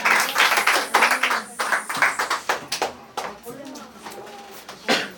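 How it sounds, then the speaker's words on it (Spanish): A church congregation applauds during a Palm Sunday service, a short burst of scattered clapping that fades quickly as a voice speaks over it. "Y a él vamos a dar un aplauso porque él es el santo, santo, santo."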